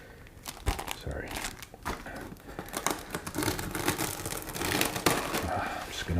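Crinkly plastic packaging of a Bugs 6 drone by Drocon and MJX being opened from one side, a close, irregular run of crackling and rustling that grows busier toward the end.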